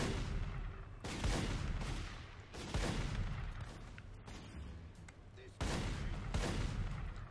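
Gunfire in a shooting video game: heavy booming shots arrive in several loud bursts spread across a few seconds, with rumbling tails between them.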